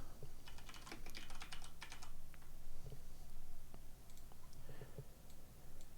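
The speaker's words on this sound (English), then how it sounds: "I'm going to type vector length" Rapid typing on a computer keyboard while setting up a game character in Unreal Engine, with dense bursts of key clicks followed by sparser, quieter taps, close and alone.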